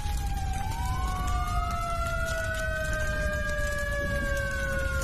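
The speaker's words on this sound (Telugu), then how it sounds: "అది ఫైర్ ఇంజిన్ సౌండ్ లా ఉంది." A fire engine siren wails in long, smoothly rising and falling tones, with two overlapping siren voices. It is loud and steady against a dense, rumbling background.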